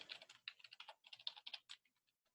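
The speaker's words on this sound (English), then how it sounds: "And I'm typing these, by the way, and I'm using my arrow key to go down rather than clicking down." Quiet, rapid keystrokes tap on a computer keyboard in an irregular burst, then slow to a few scattered clicks before falling silent, with no talking.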